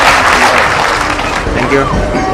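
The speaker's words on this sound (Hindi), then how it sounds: "आप सब लोगों की तालियों की गड़गड़ाहट से ये कार्यक्रम प्रारंभ हो" Loud, dense applause fills the hall at a Jain ceremony, with scattered voices mixed into the steady clapping.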